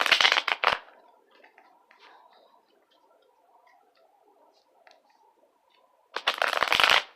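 Tarot cards are shuffled in a rough riffle, with two loud bursts of rapid flicking at the start and end and a quiet stretch of faint handling between them.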